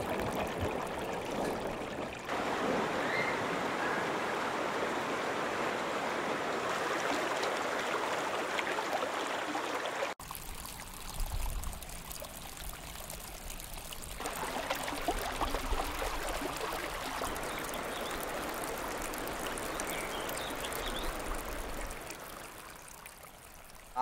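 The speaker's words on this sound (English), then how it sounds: "Water running on a ditch like this is even better than music." Water runs along a rural irrigation ditch in steady, continuous flow, with the texture shifting partway through as the stream sounds closer and more gurgling, no talk over it.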